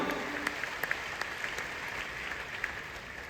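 An audience at a large seminar hall in Patna applauds steadily with dense, moderately distant clapping, a few sharper individual claps standing out.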